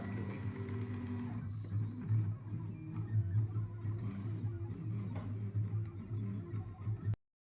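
An EasyDraw V3 drawing and writing machine plots with a pen, giving a steady mechanical whirr and buzz of motors with small ticking shifts for about seven seconds, then stopping abruptly. No one speaks.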